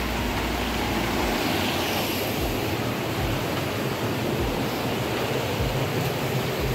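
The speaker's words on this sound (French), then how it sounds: "Un petit micro-cascade là." Continuous rushing water pours steadily nearby, a dense, even hiss and roar of a small waterfall in a narrow gorge in winter.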